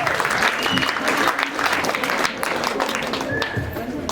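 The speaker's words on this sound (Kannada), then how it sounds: "ಇವರಿಗೆ ಒಂದು ನಿಮ್ಮೆಲ್ಲರ ಪ್ರೀತಿಪೂರ್ವಕ ಚಪ್ಪಾಳೆಯೊಂದಿಗೆ ಒಂದು ನಾವು ಅಭಿನಂದನೆಯನ್ನ ಸಲ್ಲಿಸೋಣ" An audience claps warmly at a school's annual day gathering: dense, steady applause that fills the hall at an even loudness for the whole stretch, with no voices rising above it.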